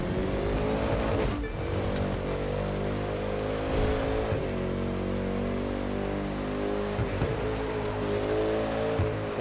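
A Bugatti engine drones steadily in the racing game The Crew 2 while the car drives through snowy canyons, a loud sustained tone that rises and falls with gear shifts and throttle changes.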